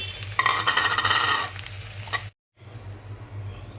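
Leafy greens hit a hot pan with a loud burst of sizzling and stirring, then the frying settles to a softer steady hiss after a brief silent cut.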